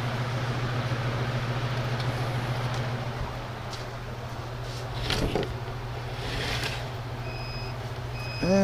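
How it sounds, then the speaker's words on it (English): An incubator alarm buzzer beeps steadily as a repeated tone over a constant electrical hum, fairly close, followed by a few other faint tones and a brief bump of noise near the end; no one speaks. "What would an incubator be without the infamous alarm?"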